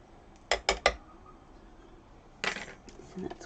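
A hand-cranked die-cutting machine is wound back, making three quick, loud ratcheting clicks, a pause, then a rougher burst of grinding mechanical clatter close by.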